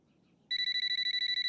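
A home telephone starts ringing after a moment of quiet, its loud electronic trill repeating in quick, even pulses close at hand with no one talking.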